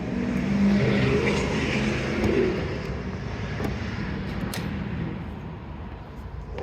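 A hydrogen fuel dispenser fills a car at H70 pressure with a steady, fairly loud rushing hiss that eases slightly toward the end.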